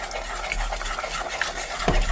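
A whisk stirs milk into egg yolks and sugar for crème anglaise, a soft, rapid, continuous swishing and scraping in a bowl, close and alone.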